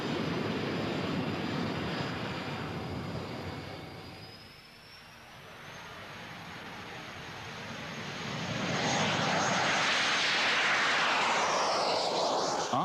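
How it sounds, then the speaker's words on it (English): A Jet Provost jet trainer roars in flight, a steady engine rush that dips briefly midway and then swells back louder, with a thin whine gliding upward and no voices. "The Jet Provost first flew as long ago as 1954."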